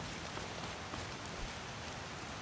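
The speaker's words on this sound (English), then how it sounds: "It seems to be a little bit less rainy now." Steady rain falls in Skyrim, a continuous soft hiss of drops on surfaces with no other sounds and no voices, holding an even level throughout.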